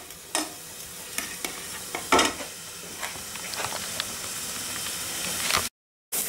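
Onion and garlic are stirred and browned in a pan for chicken and apple curry. Loud spoon scrapes and stirring strokes break over a steady sizzling hiss, then a short silent gap.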